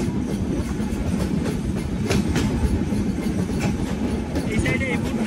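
Kapotaksha Express intercity train running from Rajshahi to Khulna near Alamdanga, a steady loud rumble with clickety-clack of the wagons over the rails, continuous throughout.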